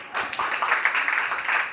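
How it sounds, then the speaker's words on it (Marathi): Audience applause at a family tribute event on stage, a steady dense wash of clapping lasting a couple of seconds with no clear break, fairly loud and even throughout. "वा वा, जोरदार टाळ्या आत्याच्या या छान सुंदर आठवणीसाठी"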